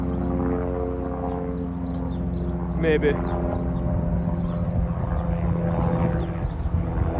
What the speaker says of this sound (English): A beastie helicopter coming past.